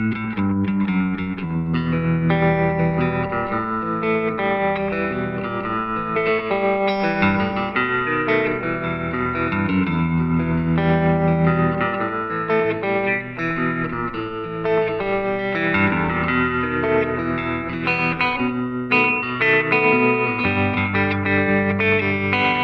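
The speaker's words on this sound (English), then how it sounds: "So I will let Guy demo it for you in some clean and overdriven tones." A Bunting Spiro Vintage Burst electric guitar with a Fralin P90 pickup plays a continuous riff, moving between clean and overdriven, distorted tones with effects, loud and alone with no talking.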